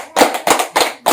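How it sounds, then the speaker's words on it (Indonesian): Four sharp, close hand claps ring out in a quick, slightly uneven rhythm to honor a discussion group at a community learning meeting on child stunting. Each clap is loud and distinct, separated by brief silences. "Tepuk tangan untuk kelompok 1"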